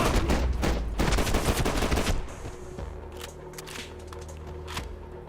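Rapid bursts of gunfire from the video game Max Payne 3, dense and loud at first, then thinning into scattered shots over a lower mechanical hum.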